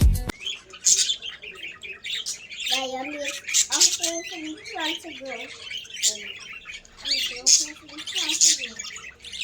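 Several birds squawk and chirp nearby in repeated harsh bursts, with some calls overlapping.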